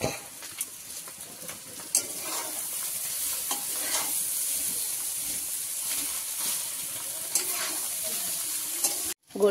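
Vegetable chow mein being stir-fried in a pan, a steady sizzle and hiss with repeated scraping stirs of a utensil against the pan, close and fairly quiet, ending with a brief clatter.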